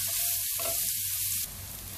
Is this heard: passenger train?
no